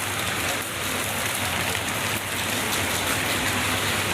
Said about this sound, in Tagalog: umuulan kaya tayo ay nakapayong